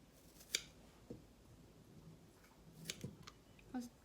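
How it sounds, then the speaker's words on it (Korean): Scissors snip through a tomato in a few faint, separate cuts spaced seconds apart, set against a quiet kitchen background. "토마토는 그냥 칼질하기 귀찮으니까 가위로."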